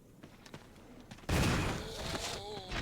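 A single gunshot from the Resident Evil Remake, a sudden loud blast that rings out and trails into a rumbling echo, following quieter muffled game sounds, with faint tonal game audio afterward.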